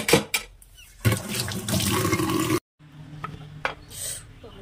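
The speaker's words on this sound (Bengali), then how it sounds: "বটিটাকে ধুতে হবে।" A bonti blade being washed with water, with splashing, running and rubbing sounds in uneven bursts, a short silent break, and then softer trickling and handling noises.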